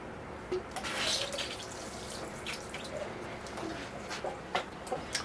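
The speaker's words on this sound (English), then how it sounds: "I am going to water my hibiscus." Water is poured onto a potted hibiscus with very dry soil, a soft continuous trickle and splash with scattered drips, while faint birdsong chirps in the background.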